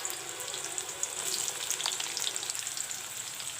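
Two medium chopped onions frying in oil for a banana kofta curry, giving an even, continuous soft sizzle with fine crackles at a steady, fairly quiet level.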